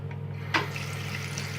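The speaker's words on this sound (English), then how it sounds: "When you open the hot water tap" Water runs steadily from a freshly opened hot water tap in an apartment, a soft constant hiss over a low hum, with a sharper splash as the flow starts.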